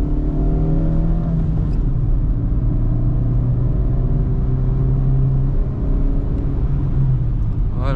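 A Renault Clio 4 engine revs steadily upward in a continuous loud drone, pitch climbing gradually as the car accelerates, heard from inside the car, with a small hole in the exhaust line making it louder.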